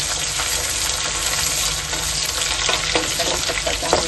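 Green chillies and curry leaves fry in hot oil for an Agri-Koli style tiny shrimp dish, giving a steady, close, dense sizzle with occasional stirring scrapes throughout.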